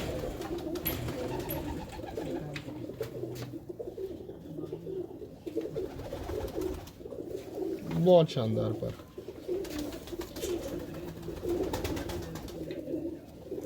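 Pigeons coo in a loft of flying birds, a steady low murmur running throughout with one louder burst near the middle, while someone talks over them.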